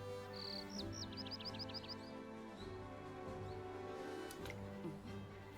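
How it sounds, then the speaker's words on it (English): Short series of about seven bright rising chirps from a video-game bird sound effect, fairly clear over steady background music and ambience, followed by a faint single chirp. "The birds chirping."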